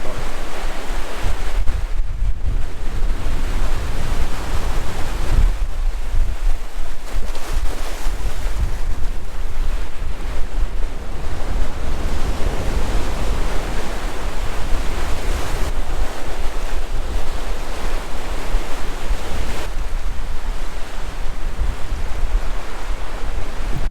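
Ocean waves roll and break on a beach while strong wind buffets the microphone, making a loud, continuous roar of surf with surging swells throughout.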